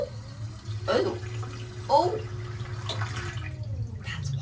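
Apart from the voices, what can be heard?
water being poured into a boat toilet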